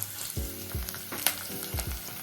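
Curry leaves and dry red chillies sizzle and crackle in hot oil for a mutton sambar, with bursts of frying hiss and soft stirring clinks close by.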